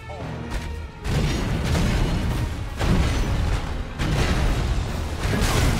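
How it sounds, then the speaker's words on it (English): Godrick the Grafted's wind attack in the Elden Ring boss fight, a loud sustained rushing roar with repeated booming surges across several seconds, no speech. "Okay, he's shooting wind now."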